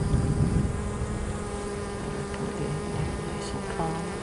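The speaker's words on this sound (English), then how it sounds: "Looks like a black bee there. A nice black bee." Honey bees at an apiary hive in Texas, black bees worked without smoke, hum in a steady, dense drone close to the microphone, loud and continuous throughout with no voices.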